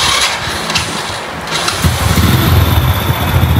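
A car engine cranks and fires up during an ignition timing test, then settles into a steady, close idle rumble.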